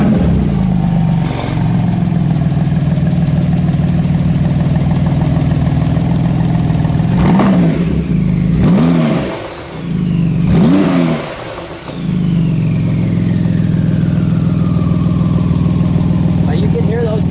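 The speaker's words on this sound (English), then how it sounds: "You can hear those turbos, Hank." A 2018 Porsche 911 GT2 RS with the Weissach Package idles loudly and steadily with turbocharged engine tone, broken by several sharp revs that rise and fall, and a voice talks briefly nearby.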